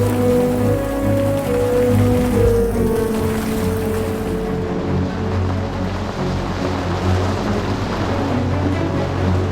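Heavy rain drums steadily on a sailing boat moored in a Mediterranean marina near Monaco, a dense, continuous hiss and patter with low hull and water rumble underneath, close and unbroken throughout.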